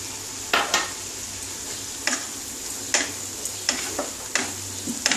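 Green chillies dropped into a hot pan of melted tomato for Bengali bata fish curry, giving a steady sizzle with several sharp stirring scrapes and ticks spread through the few seconds.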